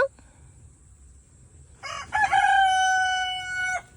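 A rooster crows once, loud and close, a drawn-out strained cry after a couple of seconds of near quiet.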